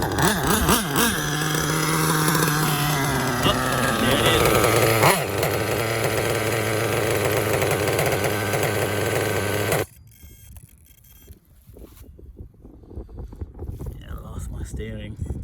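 A nitro RC car fitted with an LRP 32 Spec 2 carb on a K5.9 engine revs loudly, a strong buzzing whine for about ten seconds that then cuts to a lower, rougher idle with wind noise.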